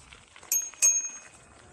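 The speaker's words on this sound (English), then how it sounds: "Bit late with a bell there." A bicycle bell on a Touroll J1 trekking e-bike rings twice in quick succession, two bright, fairly close dings over quiet riding background noise.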